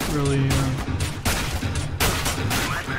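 Tec-9 pistol fire in a competitive video game match, a rapid string of loud, close gunshots in quick bursts filling the whole moment.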